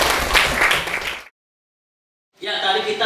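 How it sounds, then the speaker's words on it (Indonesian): A classroom of students claps in a burst of close, dense applause that cuts off into silence, then starts up again and carries on to the end. "Berikan tepuk tangan yang meriah."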